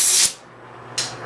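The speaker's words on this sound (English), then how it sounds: "this time we learn to spray it with air before it stops" Compressed air sprays onto a spinning lathe part in two sharp, loud hissing bursts separated by a short quiet gap.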